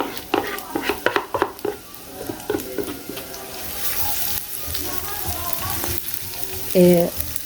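Onions and garlic sizzle and crackle in hot oil, with scraping stir sounds and a brief clink near the end.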